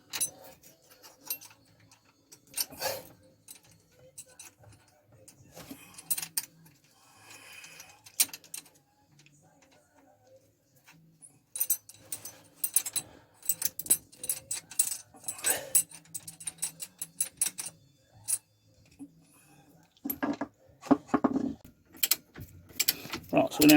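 A ball joint nut with a lock washer on an MG Metro suspension is tightened to its specified torque: quiet, intermittent metallic ratcheting and clicking in scattered bursts, growing busier toward the end, with no talking.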